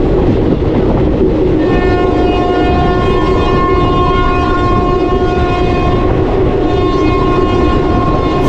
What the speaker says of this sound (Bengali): এখান থেকে হর্ন দিতে যাচ্ছে